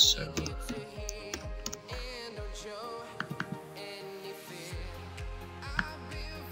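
Computer keyboard keys click in quick, uneven bursts of typing, fairly quiet beneath steady background music.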